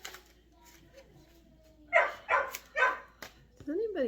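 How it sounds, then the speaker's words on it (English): A household dog barks several times in a quick run of loud, close barks, with voices and other background talk around them. "the dog starts barking"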